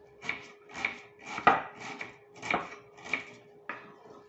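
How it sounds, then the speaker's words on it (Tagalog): A knife chops onions into small pieces on a board, seven evenly spaced crisp thuds close by with no talk over them. "hiwain na po natin ng maliliit ang mga sibuyas"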